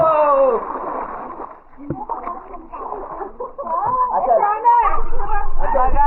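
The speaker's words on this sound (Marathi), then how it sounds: "आम्ही स्विमिंग पूल स्विमिंग पूल मध्ये आलेलो आहोत पोहायला" Water splashes in a swimming pool in brief bursts and sloshes beneath excited voices talking and calling out close by.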